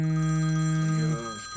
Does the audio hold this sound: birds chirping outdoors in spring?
no